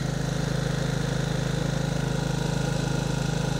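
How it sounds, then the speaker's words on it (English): An exhaust turbine runs at a steady speed, giving a loud continuous drone with a fast, even pulsing hum and no voices. "so we have our exhaust turbine running."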